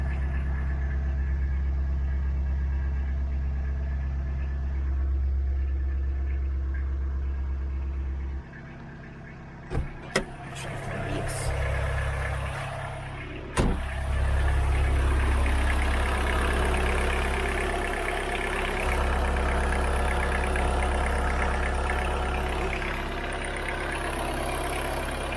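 A VW Golf MK2 that sat for 13 years idles with a steady low rumble, broken around the middle by a few sharp clanks and knocks before the even idle carries on to the end.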